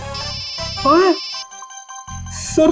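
A tonal electronic ringtone plays in a repeating melodic pattern, with a brief spoken word in between, close and fairly loud.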